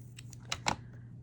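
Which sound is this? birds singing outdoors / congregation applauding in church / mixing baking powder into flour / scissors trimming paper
scissors trimming paper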